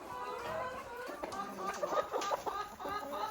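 Chickens cluck and chatter nearby in a busy coop, with a steady murmur of fowl sounds throughout.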